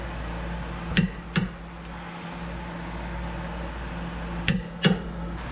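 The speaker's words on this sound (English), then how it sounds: "We're going to torque down to 80 foot-pounds." Two pairs of sharp metallic clicks from a torque wrench tightening a tie rod bolt to 80 foot-pounds on a 2005 C6 Corvette, the pairs spaced a few seconds apart over quiet garage room tone.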